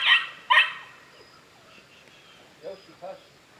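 Two sharp dog barks close together at a campsite, followed a few seconds later by two fainter, more distant barks.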